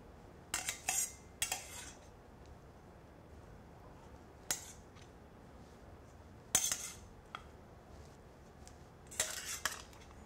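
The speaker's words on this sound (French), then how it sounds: "Je vais égoutter les figues et les réserver pour la suite." Metal kitchen utensils clink and scrape in a few short bursts against a bowl or pan while figs are drained after cooking, close by and otherwise quiet between the clatters.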